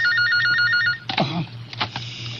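Telephone ringing indoors: an electronic trilling ring repeats steadily for about a second, then stops as clattering handling noises follow.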